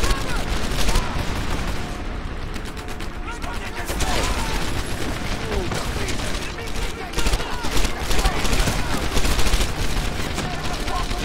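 Rapid gunfire crackles throughout a Medal of Honor Airborne firefight, dense bursts of shots with distant booms, mixed with a voice talking over the action.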